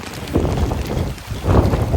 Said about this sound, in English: we're in the most ridiculous rainstorm, wind gusts up to 34 miles an hour